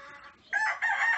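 A Bantam rooster crows nearby, a strained rising cock-a-doodle-doo of moderate loudness over soft outdoor background.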